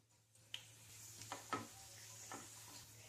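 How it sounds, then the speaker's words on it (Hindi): A teaspoon of cumin seeds drops into hot oil in a pan, giving a soft, steady sizzle with a few faint crackles and light pops against a low hum. "तेल गरम हो चुका है, इसमें 1 टीस्पून जीरा डाल दें।"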